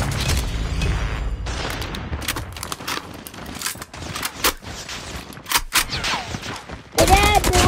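Rapid bursts of automatic gunfire and booms from the Call of Duty video game, loud and dense, with brief gaps between volleys and a voice heard now and then.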